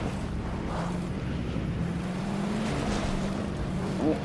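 A vehicle engine hums steadily while driving in Fortnite, a low continuous drone with slight pitch changes and a wash of wind or water noise, no voices.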